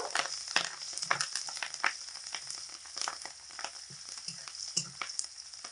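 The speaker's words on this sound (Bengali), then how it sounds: "এখানে 7-8টা কাঁচা লঙ্কা চিড়ে নিয়েছি, সেগুলো দিয়ে দিচ্ছি। এগুলো দিয়ে একটু নেড়ে চেড়ে নেব।" Steady oil sizzle in a pan as slit green chillies fry, broken by scraping stirs and soft crackles, close up with no talking.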